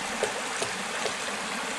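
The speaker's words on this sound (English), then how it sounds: "we're going to cross the St. Joe of the Maumee River." Water of the St. Joe branch of the Maumee River flowing near a trail crossing in Michigan, a steady soft rushing trickle with a few faint splashy accents, continuous and moderately close.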